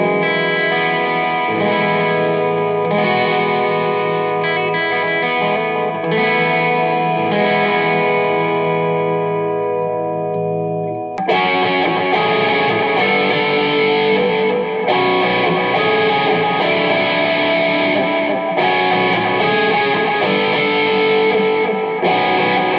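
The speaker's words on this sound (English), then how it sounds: "first let's just hear the sound of it" Electric guitar runs through a Tonex Bad Cat amp profile into a guitar cab in a room, miked with condenser and ribbon microphones; sustained chords ring out, then a louder, brighter driven passage starts midway.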